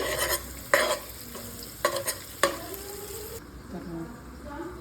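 Homemade garam masala frying for mutton biryani, a steady sizzle under repeated stirring, with several sharp spoon scrapes against the pan before the hiss quietens.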